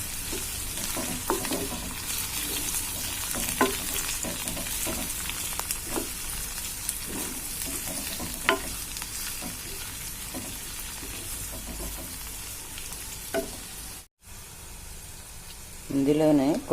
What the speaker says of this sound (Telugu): ఒక స్పూన్ ఆయిల్ వేసుకొని పచ్చిమిర్చిని ఇలా మనం కట్ చేసుకున్న పొట్లకాయ ముక్కల్ని వేయించుకుందాం.